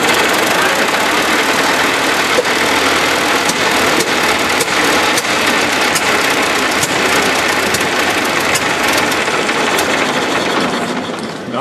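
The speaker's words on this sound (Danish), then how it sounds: "Så er der selvstarter på, man starter." A 1906 Delaunay-Belleville car engine runs steadily at idle, a loud, dense and continuous mechanical clatter with fast ticking and rattling throughout, close by, fading slightly at the very end.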